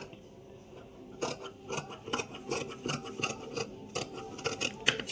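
Scissors cutting fabric for tailoring, close by and fairly quiet, with rhythmic snipping and rasping strokes that begin after a short lull and keep a steady, uneven pace.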